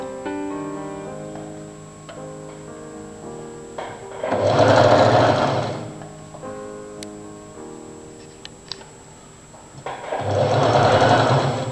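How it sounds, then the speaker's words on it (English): A sewing machine stitches around the neck of a front-open Chinese collar jacket, running in two loud, steady bursts of rapid whirring with quiet handling pauses between them. "I have stitched it all around the neck"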